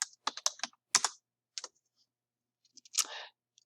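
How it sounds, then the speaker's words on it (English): A computer keyboard clatters under quick typing as a search is entered, a brisk run of close, light key clicks in short clusters with brief gaps, ending in a firmer tap like a final keystroke. "So I'm going to type in animal testing."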